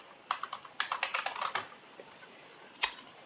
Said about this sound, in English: we can start typing to make a change